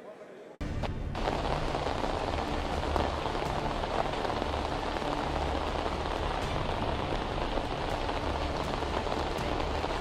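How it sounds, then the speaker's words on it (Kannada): Heavy rain pours at an outdoor search site near the Netravathi river in Dharmasthala, a dense, constant hiss and patter of water hitting the ground that holds steady and loud throughout. "ಭಾರಿ ಮಳೆ ಬರ್ತಾ ಇದೆ, ರಸ್ತೆಗಳಲ್ಲೆಲ್ಲ ನೀರು ಹೋಗುವಷ್ಟು ಮಳೆ ಬರ್ತಾ ಇದೆ"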